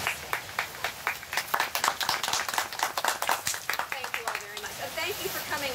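A crowd at a ribbon cutting claps in a rapid, uneven patter at moderate distance, the applause filling the whole stretch with voices talking faintly beneath it.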